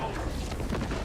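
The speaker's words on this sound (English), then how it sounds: "Oh, you're about to be bombed." A bombing strike in the Helldivers video game lands as a brief, heavy, rumbling blast lasting about a second, mixed with a voice talking over it.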